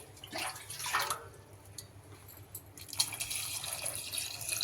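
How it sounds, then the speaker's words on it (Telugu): Water is poured over lentils in a pot for sambar, a soft splashing and trickling that comes in a few short bursts, close and fairly quiet. "పప్పు మునిగేంత వరకు వాటర్ వేసేసుకోవాలి."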